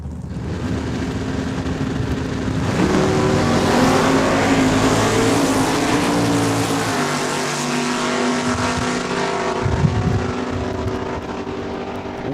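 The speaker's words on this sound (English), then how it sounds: "He'll have to wait as Anita Hendry out of Dundurn. 1075 will get the head start." Drag race cars launch hard at Saskatchewan International Raceway in Saskatoon, a loud sustained engine roar climbing and holding close by before easing off as the cars pull away down the strip.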